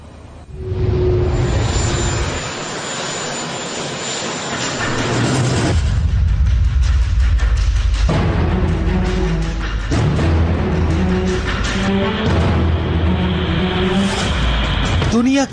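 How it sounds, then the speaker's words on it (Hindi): Air Force One, the presidential jet, comes in to land with a loud, sustained roar and rumble that swells and shifts throughout, with voices talking over it. "डोनाल्ड ट्रंप का एयरफोर्स वन प्लेन जब लैंड करने वाला था"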